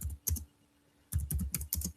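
A computer keyboard is typed on in two quick bursts of soft, close key clicks separated by a short pause.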